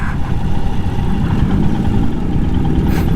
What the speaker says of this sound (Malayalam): ഓ ഹയബൂസൊക്കെ പോകുന്നു